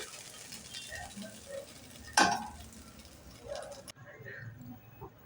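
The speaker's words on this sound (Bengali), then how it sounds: "সয়াবিনগুলোকে এরকমভাবে ভালো করে একটু ভেজে নিতে হবে" Soybeans fry in a pan for chilli soya with a low, even sizzle and stirring scrapes, broken midway by one sharp metallic clang of a utensil against the pan.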